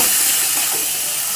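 Fried crabs hit hot masala in a pan, giving a loud, close, continuous sizzling hiss that stays steady throughout.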